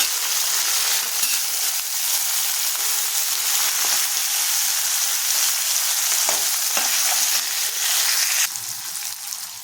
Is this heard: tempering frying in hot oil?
yes